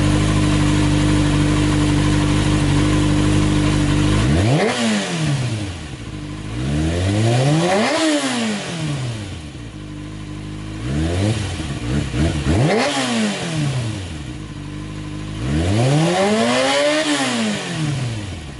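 A Kawasaki ZX6R sport motorcycle engine idles loudly up close, then is blipped through four rising and falling revs, each swelling to a high whine and dropping back to a rumbling idle.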